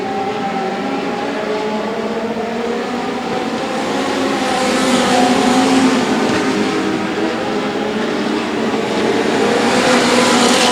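Legend race cars roar around a track during a race, a loud, sustained blend of high-pitched engine whine from several cars that swells and recedes as they pass.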